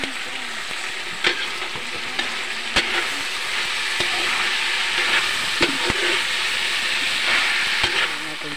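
Sliced pork belly (liempo) fries in a pan, giving a steady, close, loud sizzle with a few sharp clinks of a utensil stirring the meat, and no talking.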